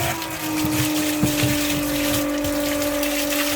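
A Milwaukee pump drains a Bradford White power vent water heater, giving a continuous loud gushing rush of water over a steady motor whine with no pauses.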